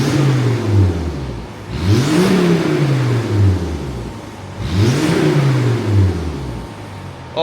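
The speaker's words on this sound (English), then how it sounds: "Let's get a rev now." A Volvo S60R T5 five-cylinder roars through its exhaust in two loud, close revs, each rising sharply and then falling away before the next blip, with no talk over it.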